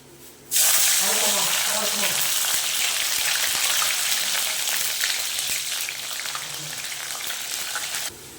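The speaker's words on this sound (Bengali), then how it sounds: "এবারে ভেজে নেব এই সজনের ডাটাগুলো" Moringa drumstick stalks hit hot oil for a dudh shukto, setting off a sudden loud sizzle that crackles steadily for several seconds before cutting off near the end.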